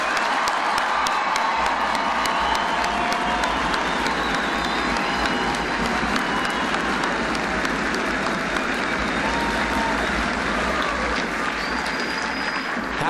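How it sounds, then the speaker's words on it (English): Sustained, loud applause from a large crowd at an Army basic combat training graduation ceremony, with scattered cheers and whoops running steadily throughout. "Please join me in a round of applause for these great soldiers."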